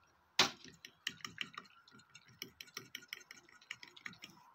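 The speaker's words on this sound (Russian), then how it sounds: "И тщательно перемешиваем." A whisk clicks and taps irregularly against a bowl while mixing a thin batter of flour, salt, seasoning and water for fried shrimp outdoors in a village, a quick uneven series of close, light strikes.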